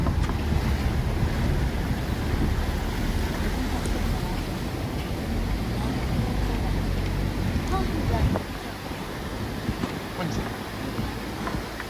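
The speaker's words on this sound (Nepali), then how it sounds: "यो पानी जुन छ नि त्यो बागमती पानी जान्छ" The Bagmati River, swollen after rain, flows beneath a bridge near Lalitpur as a loud, steady, close rushing roar that fills the whole clip, with some wind buffeting over it and a slight easing near the end.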